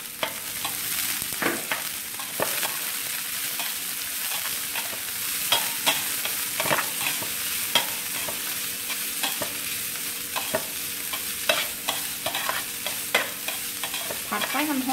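Food is stir-fried in a pan over high heat, giving a continuous loud sizzle. Frequent sharp spatula scrapes and clicks sound against the pan, with no voices.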